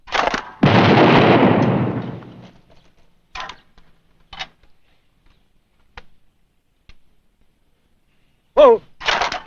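Gunfire in a television drama: one loud, close blast rings out with a long echoing tail. Faint scattered clicks and thuds follow, and a couple of short sharp bursts come near the end.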